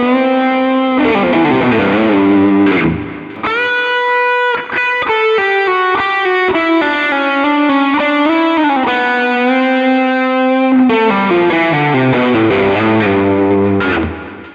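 A distorted electric guitar plays a lead lick, loud and sustained, with sliding bends and vibrato, smooth legato runs and a brief break partway through.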